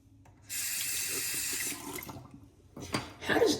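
A water tap runs steadily into a sink during a wet shave for about a second and a half, then tapers off into softer splashing and wet handling sounds close by.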